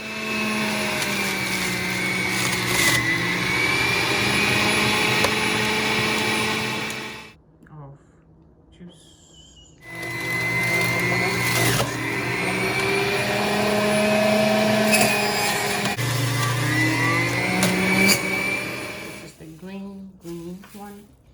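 A juicer whirs loudly and steadily while pressing carrots and apples, runs nonstop for several seconds, cuts out briefly and then starts up again.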